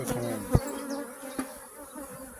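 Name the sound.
agitated honeybee colony buzzing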